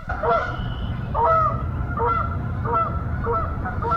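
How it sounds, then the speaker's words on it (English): Geese honk repeatedly in short calls spread over a steady low background rumble, moderately close and fairly loud. "Can you hear the geese?"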